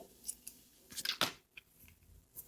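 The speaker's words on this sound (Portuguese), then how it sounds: "eu vou cortar o fio" Scissors snip through cotton crochet yarn while a crochet bag is being finished, giving a few short, crisp cuts close by, with quiet pauses between them.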